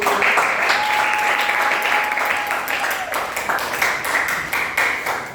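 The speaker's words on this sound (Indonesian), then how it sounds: "Ini tepuk tangan lu bergabung." Students clapping together during a university sedimentology review class, a continuous group applause with audible individual hand claps, sustained for several seconds alongside a faint tonal ping and some voices.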